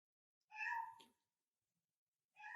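A cat at play gives two short, bright meows, one clear call followed after a pause by the start of another, close and quiet with silence between.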